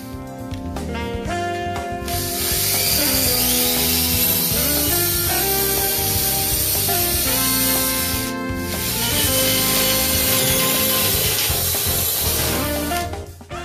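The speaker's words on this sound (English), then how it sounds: "you can then drill through the center holes using the spacer as a guide" A power drill whines loudly as it bores through wood for a barn door installation in two long, steady runs separated by a brief pause.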